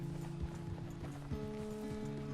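Hoofbeats from a horse in Red Dead Redemption 2 clip-clop in a steady trotting rhythm, close and clear over a sustained musical score, with no talking.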